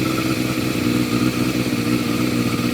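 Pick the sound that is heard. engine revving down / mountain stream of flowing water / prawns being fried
engine revving down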